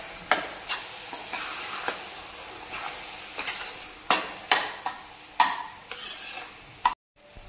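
A spoon scrapes and knocks against a pan as spices roast in hot oil for pav bhaji, irregular stirring strokes over a steady low sizzle, close by, and then a brief cut to silence near the end.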